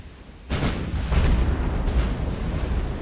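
Naval gunfire booms from warships in the game Ultimate Admiral: Dreadnoughts, a heavy report kicking in sharply and then rumbling on as a sustained, loud low roar with a few further blasts layered on top.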